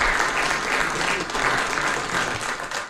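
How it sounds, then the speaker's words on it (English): Audience applause after a talk on Armenian memory books in Belmont, Massachusetts, a full, continuous burst of clapping that fills the room and tapers slightly at the end. "And now please applaud for Khachik Muradian"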